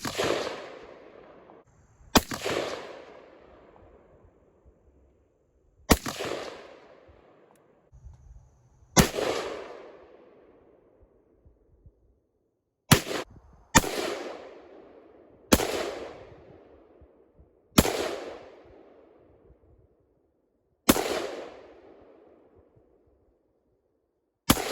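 An AR-15 rifle fires single shots at a silhouette target outdoors, about ten loud sharp cracks at irregular intervals, each followed by a long echoing decay into near silence.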